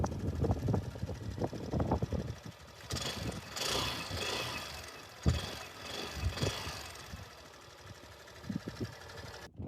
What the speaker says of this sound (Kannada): ಇಂಜಿನ್ ಮುಂಚೆಗೆ ಅಂತ ಈಗ ರಿಫೈನ್ ಆಗಿದೆ